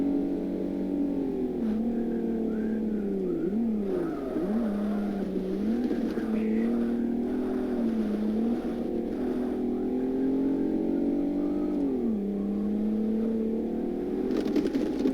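A race car engine in Forza Motorsport drones steadily and close, its pitch rising and dipping through gear changes and corners, with no talk over it.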